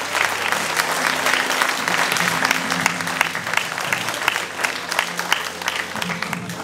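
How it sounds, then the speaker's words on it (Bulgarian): An audience in an indoor hall at a 40th birthday celebration applauds strongly, a thick continuous wash of clapping with a faint low steady tone underneath. "Още веднъж силни аплодисменти."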